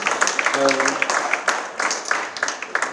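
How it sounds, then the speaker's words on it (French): An audience at a festival round-table discussion claps in a scattered, lively patter, with a voice briefly speaking over the applause. "Je pense que vous pouvez les applaudir à nouveau."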